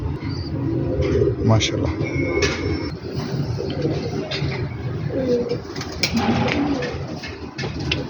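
A pure Silkoti Choha pigeon pair cooing, with soft repeated low coos and some chirps close by, while someone talks over them throughout.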